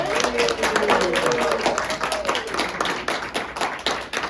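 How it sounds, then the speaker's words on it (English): A group claps steadily at a book awards ceremony, a scattered patter of hands building into light applause, with a voice briefly heard over it. "can we give a round of applause to everyone?"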